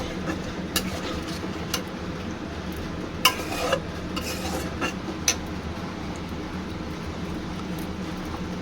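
A spoon stirs a tengra fish curry sauce made with curd and sugar in a pan, giving a few sparse, light clicks over a steady low hiss.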